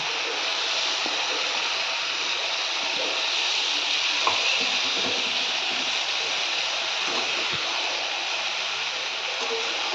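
Chana dal (split chickpeas) frying in a pan with turmeric, a constant dense hiss without pauses or clear pops.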